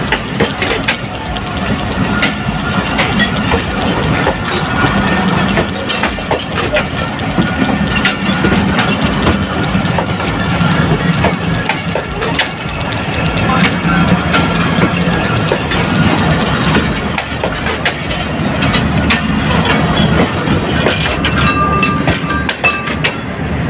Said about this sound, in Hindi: आप देख रहे हैं डिपार्चर 145 अब सक्कर express from Shikarpur railway station.